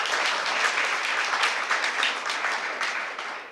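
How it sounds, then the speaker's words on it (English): Audience applause for city council candidates at a local forum, with many people clapping steadily and fairly close throughout, tapering slightly at the end. "Let's give all the candidates a round of applause."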